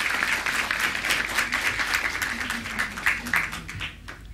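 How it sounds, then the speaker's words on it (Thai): An audience gives a teacher a loud, sustained round of applause at a stage event, with dense clapping throughout that thins slightly toward the end. "ขอเสียงปรบมือด้วยนะครับดังๆให้กับครูเรฟของเรานะครับ"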